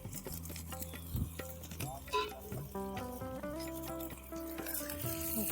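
Curry leaves and green chillies fry and sizzle in a pan outdoors, with a steady crackle that sits under a person talking over it.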